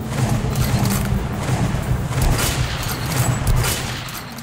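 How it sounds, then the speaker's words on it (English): Bolt-action rifle gunfire in Metro 2033 or Metro: Last Light rings out as a dense, continuous volley of booming shots, loud and overlapping throughout. "The Valve bolt-action rifle offers massive stopping power and damage, with some of the most satisfying gunshot sound effects"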